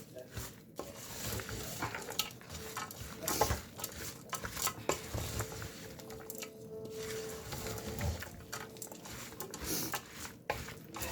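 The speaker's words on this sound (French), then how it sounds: "On mélange le tout." Moroccan harira soup ingredients with olive oil are mixed together in a pot, producing soft, squishy stirring and occasional utensil clinks at close range, fairly quiet.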